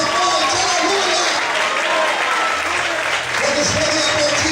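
A church congregation applauds together during an evening worship service, producing dense, steady clapping that fills the room, with faint voices mixed underneath.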